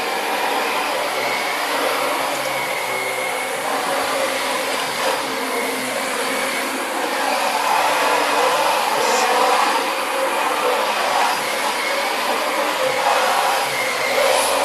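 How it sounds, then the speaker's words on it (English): A Dyson DC25 upright bagless vacuum cleaner runs steadily and close by, giving a continuous loud airy motor roar with slight shifts in tone as it is pushed across the floor and no speech. "Very hard to keep the vacuum in frame and vacuum at the same time"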